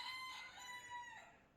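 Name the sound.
rooster crowing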